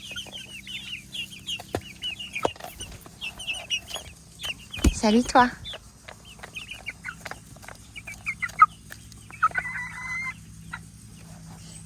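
Chickens at a backyard coop, a black broody hen with her young chicks, cluck and chirp in short scattered bursts close by while someone speaks softly to them.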